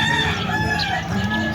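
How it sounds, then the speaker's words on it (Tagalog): A rooster crows loudly and close by at a chicken pen, a drawn-out cock-a-doodle-doo with a steady, ringing tone and no one talking. "Dito tayo sa may manukan. Yung may nag-aalaga ritong manok."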